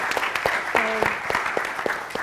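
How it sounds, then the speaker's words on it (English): An audience at a Black graduate careers event breaks into a round of applause, dense and steady clapping for about two seconds with a faint voice briefly audible underneath. "Let's do a round of applause"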